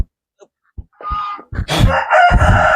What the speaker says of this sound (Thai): อันนี้จะเป็นไก่